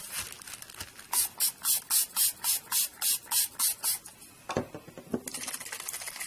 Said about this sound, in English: I'm actually going to spray it with water first to help it bleed through